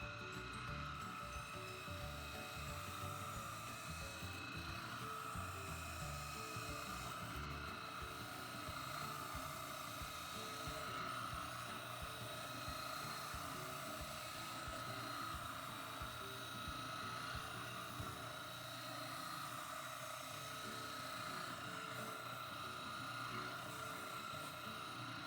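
A Central Machinery 14 inch oscillating spindle sander runs steadily with fresh grit, giving a continuous high-pitched motor whine and grinding hum at moderate level throughout, with no talking.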